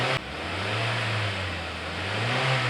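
A car engine revved with the throttle, part of an engine check with a diagnostic scanner connected. It is a steady, loud, mid-pitched roar that swells and holds for a few seconds, with no talk over it.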